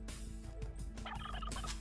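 Turkeys gobble in a real-time strategy game, short bursty in-game calls over a steady busy background of game sounds, with a brighter cluster of gobbles near the end.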